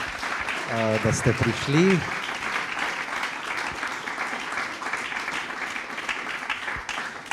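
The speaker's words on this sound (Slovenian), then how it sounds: "Dajte en aplavz, hvala vsem," An audience at a book presentation breaks into steady applause that runs the whole length, a dense wash of clapping from a room of people, while someone speaks briefly over it near the start.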